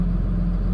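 The engine of a 2016 Hino 268A 26-foot box truck with a reefer unit idles just after start-up, a steady, close, low rumble with an even hum and no revving.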